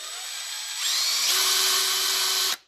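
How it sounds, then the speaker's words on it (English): A handheld screw gun whines loudly and steadily for under three seconds, rising in pitch partway through and cutting off sharply at the end. "let's see if we can chuck that up into a screw gun"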